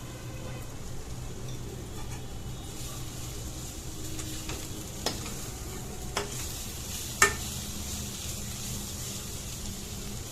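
Food being stirred in a cooking pan after a little sugar is added: a soft, steady scraping that runs throughout, broken by a few faint clicks of the utensil against the pan. No one speaks.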